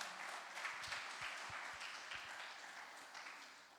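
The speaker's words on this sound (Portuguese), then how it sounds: "Bata as palmas para o Senhor." A church congregation claps together during a Portuguese-language worship service, a diffuse and fairly soft patter of many hands heard from a distance, holding steady for a few seconds with no voices over it.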